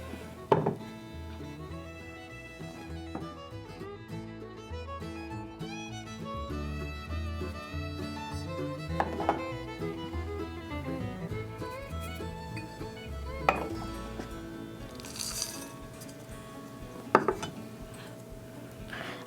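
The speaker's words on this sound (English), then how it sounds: "we're going to take all the dry ingredients and just mix them all together in our bowl, starting with the oats" Oats and other dry granola ingredients mixed in a bowl, a long stretch of soft scraping and occasional sharper knocks against the bowl, close but fairly quiet, under steady background music.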